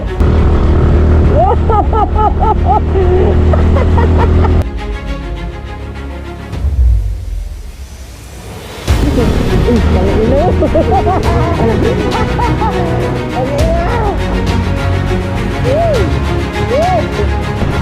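Honda Mio i 125 scooter climbing a steep uphill road at full throttle, a loud straining engine drone with wind noise and people talking and whooping over it.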